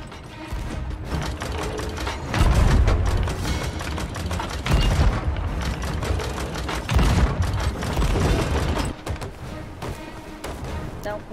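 Ship cannons fire in a Sea of Thieves naval battle, several heavy booms landing at intervals of a few seconds amid a dense, busy mix of clattering game sounds and chaotic noise.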